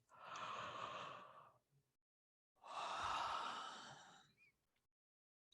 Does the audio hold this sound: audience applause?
no